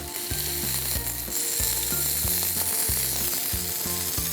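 Steady, bright sizzling of oiled paneer tikka frying on a hot grill, with a rhythmic music track playing underneath and no speech.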